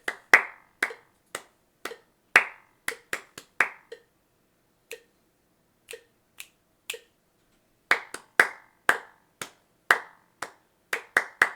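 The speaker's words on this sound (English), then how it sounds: "I'm just going to clap it for you this time." Sharp, close hand claps tapping out a sixteenth-note rhythm: quick clusters of claps, then sparser single claps in the middle, then a dense run again, played alone with no talk.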